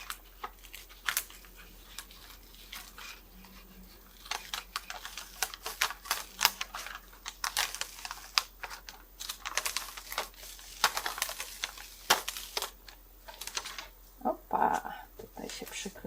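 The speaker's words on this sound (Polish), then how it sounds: "Ściągamy arkusz z maty i sprawdzamy, czy rzeczywiście nam ściągnie niepotrzebny papier" Quiet, close crinkling and tearing of paper with scattered ticks and rustles, as a sticker paper sheet is slowly peeled off a ScanNCut cutting mat.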